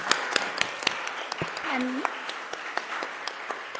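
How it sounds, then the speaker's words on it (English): A room at a city council meeting breaks into applause, a burst of scattered handclaps under a speaking voice that continues over it. "Round of applause."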